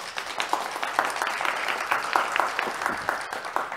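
An audience applauds at a literary prize ceremony in Abitibi-Témiscamingue, Quebec, with a steady patter of many hands clapping at moderate loudness throughout, and no talk over it.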